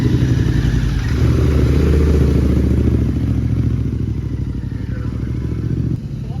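Royal Enfield Interceptor 650 motorcycle engine idling steadily up close, a loud continuous low throb with mechanical clatter, easing slightly toward the end.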